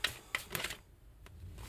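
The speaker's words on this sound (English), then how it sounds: "One more shuffle." A deck of tarot cards is shuffled: a few short, crisp snaps and riffling bursts close by, then a quiet pause with one more faint tap.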